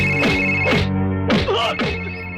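A telephone rings steadily through an indoor scene in an action film, its tone continuing beneath swelling music and voice-like sounds.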